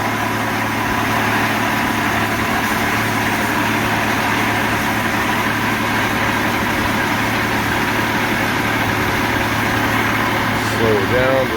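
Portable sawmill engine drones loudly and steadily with the clutch engaged, a continuous low hum throughout with no break, recorded close.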